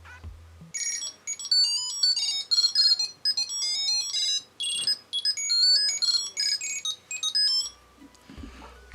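A Cube Pro Bluetooth tracker sounds its loud alert, a shrill, high chirping melody in repeated bursts with short gaps, close and piercing, with no one talking.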